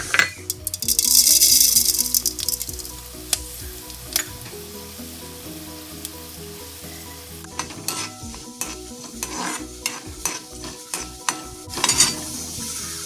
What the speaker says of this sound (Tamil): இப்போ வானலியில் எண்ணெய் விடணும் கொத்தமல்லி வர போடணும்